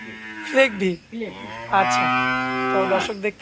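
A Holstein Friesian cow at a dairy farm gives several close, loud moos, short calls first and then one long drawn-out bellow, with little else around.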